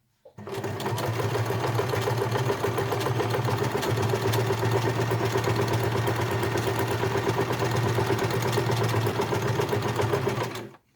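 A sewing machine runs steadily for about ten seconds, stitching together a snap-shut fabric glasses case, its fast even mechanical chatter and motor hum loud and close, starting and stopping cleanly with no talk.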